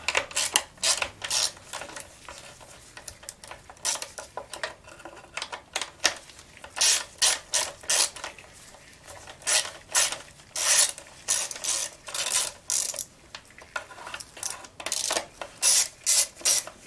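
A hand ratchet turns T20 bolts out of the plastic shroud on a Craftsman Incredi-Pull, giving rapid bursts of close, sharp clicking repeated in quick runs with short pauses and no talk.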